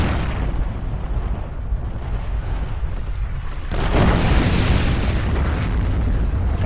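Artillery shells land in Forgotten Hope 2 multiplayer combat at Sidi Rezegh, producing a dense, loud rumbling roar of blasts that swells and thickens midway, continuous and heavy with no clear gaps.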